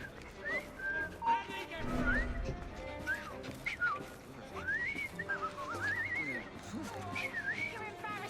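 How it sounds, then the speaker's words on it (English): A man whistles a wavering, tuneless melody in the Victorian London setting of the game Assassin's Creed Syndicate, the notes sliding up and down over several seconds against faint ambient clatter. "I've just learned to whistle."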